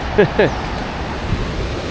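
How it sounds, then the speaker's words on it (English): Gentle, predictable ocean surf on the coast at Lima, Peru, a soft continuous wash of waves and wind, with a couple of short voice sounds near the start. "Waves here are very, very gentle, very easy, very predictable too."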